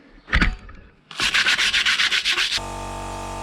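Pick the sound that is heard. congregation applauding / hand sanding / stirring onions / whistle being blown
hand sanding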